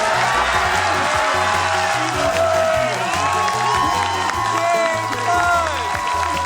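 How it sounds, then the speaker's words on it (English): A large crowd at the Classic Tetris World Championship cheers and applauds loudly and continuously, with scattered shouts rising over the steady roar of clapping. "Even Alexei Pajitnov himself was on his feet in applause."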